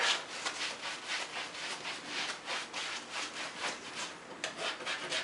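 Rapid scratchy brushing strokes sweep dust off a wooden bench hook, with a steady rhythmic rubbing that sounds close and fairly quiet and carries no talk.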